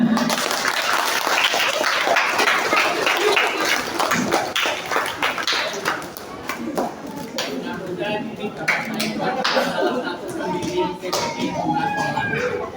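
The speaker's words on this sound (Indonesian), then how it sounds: "Tepuk tangan semuanya." An audience at an anniversary celebration of an Indonesian Quran school in Kutoarjo applauds loudly and steadily. The clapping thins out toward the end, with scattered voices and some clatter among the crowd.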